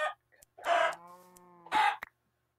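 A Minecraft chicken gives two short clucking squawks, each followed by a brief tonal call between them, close and clear against silence.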